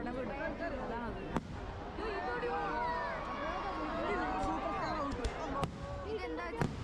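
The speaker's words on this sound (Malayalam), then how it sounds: "പടക്കത്തിന്റെ കൂടെ കൊട വിടും" Firecrackers bursting during the Kavassery Pooram festival: a handful of sharp, loud bangs cut through a steady wash of crowd noise, with people talking throughout.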